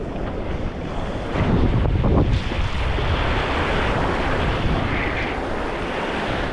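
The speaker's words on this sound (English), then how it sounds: "I'm actually fighting the wind at the moment" Strong wind buffets the microphone on an open beach during live-bait fishing, a loud continuous roar with the wash of surf beneath it that swells briefly and then holds steady, with no voices.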